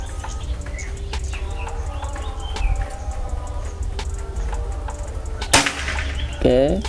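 A single sharp PCP air rifle crack snaps out near the end over constant birdsong and insect buzz outdoors.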